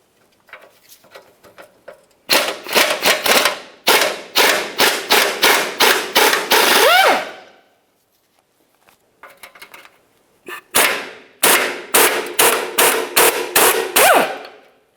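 A tool rattles in rapid bursts while taking 15mm nuts off the transmission cross member of a 2000-2006 Chevrolet Tahoe, two loud close runs of sharp repeated hits with a pause between.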